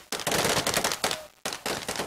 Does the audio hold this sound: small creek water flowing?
no